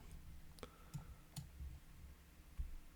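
Several sharp computer mouse clicks at irregular intervals while working in video editing software, close and fairly quiet over a low background hum, with no talking.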